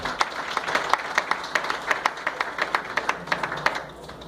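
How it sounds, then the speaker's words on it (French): A church congregation claps for a visiting president, distinct hand claps from a modest group in a reverberant hall that fade out toward the end. "And can we give him a hand clap?"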